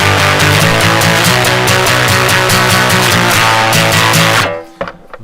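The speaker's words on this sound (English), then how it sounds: "I've got a JHS cheese ball, which is a heavy fuzz, which sounds like this." An electric guitar played through a JHS Cheese Ball heavy fuzz pedal churns out a loud, saturated, rhythmic riff of chugging chords for several seconds, then cuts off abruptly, leaving a few faint string noises.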